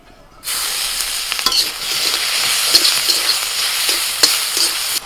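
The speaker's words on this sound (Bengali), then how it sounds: "কড়াইতে সামান্য সাদা তেল দিয়ে দিচ্ছি আমি। তেলের মধ্যে দিচ্ছি রসুন কুচি আর আদা কুচি।" Chopped garlic and ginger fry in a little white oil in a wok. A loud, close sizzle bursts in after a brief silence and holds steady, with light stirring scrapes and occasional pops.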